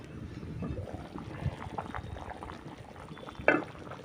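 Pumpkin dappalam stew bubbles steadily in a covered pot, a continuous soft simmering hiss with occasional louder pops, close by and without speech.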